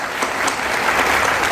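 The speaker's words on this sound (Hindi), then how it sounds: "एक बार जोरदार तालियां बताइए" An audience at a political rally breaks into loud, dense applause, a steady wash of many hands clapping close by with no voices over it.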